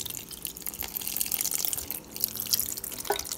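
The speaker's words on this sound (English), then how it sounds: "Then we're going to add our Carnation milk, and I am using 3 cans of Carnation milk." Carnation evaporated milk pours from a can into a pot for Haitian macaroni au gratin, a steady liquid stream running close and continuously.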